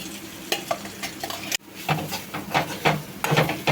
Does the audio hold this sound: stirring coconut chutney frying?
yes